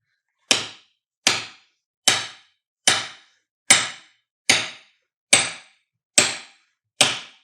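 Nine sharp hammer strikes driving a peg into wood during chair making land at a steady, even pace, each a crisp ringing knock that fades quickly, close by with no talking.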